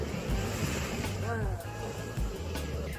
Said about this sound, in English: Oh, we got a big wave coming, people.